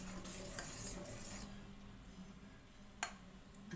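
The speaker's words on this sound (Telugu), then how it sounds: "మనం కలపటం ఆపివేసినట్లయినా ఉండలు కట్టేస్తుంది. అందుకోసం ఉడికే వరకు కూడా శుభ్రంగా మనం స్పూన్తో కలుపుకుంటూనే ఉండాలి." A spoon stirs thick ragi porridge (ambali) in a pot, giving soft scraping and faint clinks, with one sharper tap near the end; quiet and close, with no voices.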